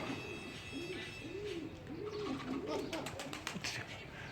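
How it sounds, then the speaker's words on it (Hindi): Pigeons perched on a rooftop coo in a series of soft, rolling calls, several in a row, faint against background noise, with a brief flutter of sounds near the end. "ये कबूतर बैठे हैं कुछ आके"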